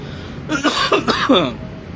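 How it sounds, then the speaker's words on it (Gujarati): Three or four harsh, throaty coughs in quick succession, fairly close and loud, with a faint background hum. "ઉધરસ બહુ જોરદાર આવે છે"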